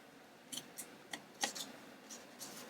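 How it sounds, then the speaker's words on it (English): Scissors snip the corners of paper, a handful of short, crisp cuts spaced irregularly and heard close up in a quiet room. "I'm just going to snip the corners"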